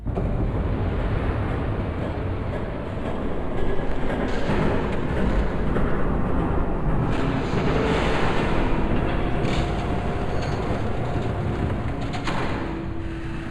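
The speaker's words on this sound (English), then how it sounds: "There's a train coming." Rumbling, roaring approach of a train in the Batman Telltale Series game, a steady loud low rumble with wind-like noise filling the whole stretch and swelling slightly midway, no talk.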